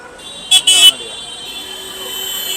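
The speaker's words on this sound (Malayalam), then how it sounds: "ഭയങ്കരമായ ഹോണടിയാണ്." Car horns honking in busy Agra street traffic, a pair of short, loud toots near the start over a steady drone of road noise.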